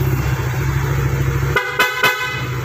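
Honda Click i125 engine idling, then three sharp, loud honks from a PIAA motorcycle horn in quick succession, close by.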